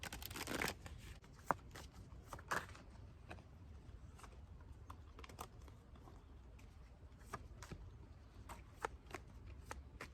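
Tarot cards are shuffled close by in a quiet room, giving soft riffling and patter with scattered crisp snaps and taps of cards against each other, faint and continuous throughout.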